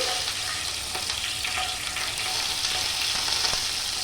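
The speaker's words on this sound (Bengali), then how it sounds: "এবার মাশরুমটা একটু গোলমরিচ আর কাঁচা লঙ্কা ফোড়ন দিয়ে এবার মাশরুমটা ভাজবো" Mushrooms frying with green chilli and black pepper, a dense, steady, close hiss of hot oil sizzling, with a few faint stirring knocks underneath.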